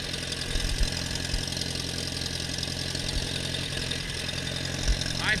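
A Massey Ferguson 50 tractor engine idles at a steady, fairly quiet rumble, with a few low thumps breaking the even drone.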